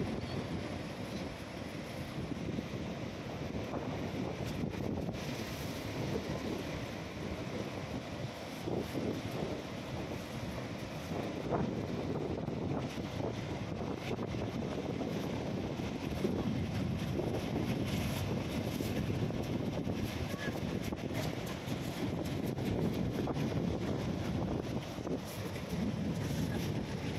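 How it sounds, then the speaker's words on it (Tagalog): Strong wind buffets the microphone during stormy weather with rough seas, a constant broad roar with gusting surges and the wash of waves beneath, loud and unbroken with no voices. "Grabe ang hangin."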